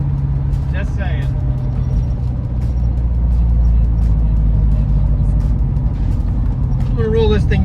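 A 1971 Ford Mustang Mach 1 engine idles with a loud, steady low rumble throughout, while someone speaks over it near the end.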